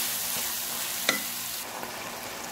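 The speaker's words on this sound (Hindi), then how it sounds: "अब हम इसमें चिकन डाल देंगे जो हमने प्लेट में निकाला हुआ। थोड़ी देर इसको भूनेंगे।" Chicken frying in a tomato and oil masala, a continuous close sizzle with one sharp clink of a utensil against the pan partway through.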